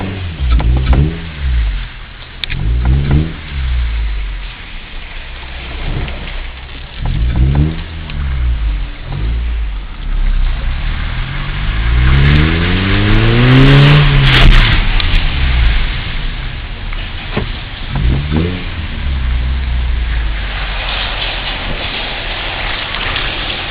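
Honda Fit Sport from 2007 fitted with an aftermarket intake and exhaust, driven from inside the cabin; engine revs climb and fall through several gear changes, loudest during one long pull, with road and wind noise throughout.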